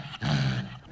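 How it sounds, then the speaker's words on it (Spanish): A small angry dog growls once in a short, low rumble, recorded close on a phone. "Esto, por ejemplo, es mi perrita enojada."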